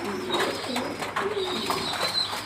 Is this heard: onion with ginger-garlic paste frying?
no